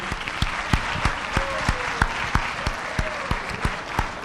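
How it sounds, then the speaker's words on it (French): An audience at a reality show finale cheers a contestant with loud, sustained applause, marked by a steady pulse of sharp rhythmic claps over the dense clapping of the crowd. "On l'acclame très fort, Jean Bosco."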